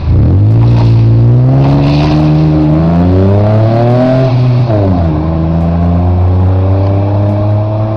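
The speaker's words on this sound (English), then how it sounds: "Made in '94, fantastic Vauxhall Coupe." A 1994 Vauxhall Coupe engine revs loud and close, its smooth note climbing and dipping with gear changes as the car accelerates and drives away.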